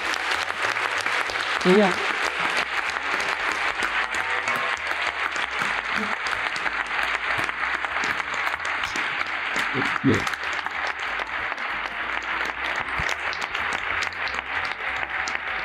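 A television-show audience gives a sustained ovation, a thick, unbroken wash of clapping from many people that holds steady at full strength, while a voice briefly speaks over it now and then.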